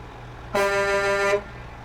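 A truck's horn in American Truck Simulator blares once, loud and close, as a steady tone of about one second over a low engine hum.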